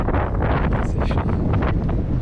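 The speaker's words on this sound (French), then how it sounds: "On a déjà le vent de face là." Loud, constant headwind in the Sahara Desert roars across the microphone in a dense, unbroken blast.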